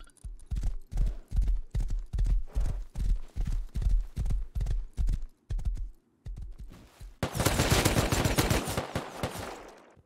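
Hooves of a white thoroughbred horse in a video game, a steady, close, loud clip-clop gallop, shifting into a dense burst of rapid gunfire near the end.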